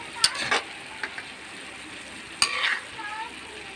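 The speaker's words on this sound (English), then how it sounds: "so now we will saute" Food being sautéed in a pan for a homemade cheese tuna dish with boiled potatoes and carrots, faint sizzling under occasional sharp clicks and scrapes of a utensil stirring against the pan.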